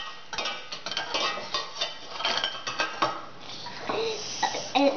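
A spoon scrapes and clinks against a container while stirring goo with spicy tomato, giving a close run of repeated taps and knocks that grow busier toward the end.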